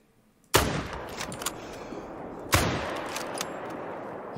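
Two sharp, loud rifle shots from The Hunter: Call of the Wild, a hunting game set in a snowy taiga, ring out about two seconds apart, each trailing off in a long echoing decay.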